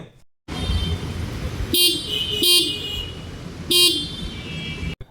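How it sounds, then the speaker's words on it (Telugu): Three short, bright beeps from a 2026 TVS Jupiter 110 scooter horn sound close by over a steady low engine hum, the first two quick and the third after a pause. "ఇప్పుడు ఒకసారి ఈ స్కూటీ హార్న్ సౌండ్ కూడా వినండి"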